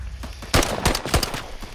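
Rapid gunfire from a gun in Call of Duty, a burst of sharp, loud shots in quick succession, close and unaccompanied by talk.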